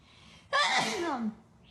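One loud, close sneeze bursts out abruptly and fades within about a second, with quiet background before and after.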